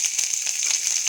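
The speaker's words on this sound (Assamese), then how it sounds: "এতিয়া আদা নহৰু আৰু জলকীয়াখিনি দি দিছোঁ।" Ginger, garlic and chilli hit hot oil with a steady, close hiss and fine crackling that runs unbroken through the short moment, ending with a soft low thump.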